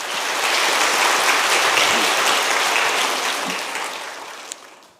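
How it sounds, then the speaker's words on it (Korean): Warm, sustained applause fills a church revival service marking a fiftieth anniversary, a dense wash of clapping from a large congregation that holds steady, then fades away near the end with one sharp clap. "뜨거운 박수로 맞이하겠습니다"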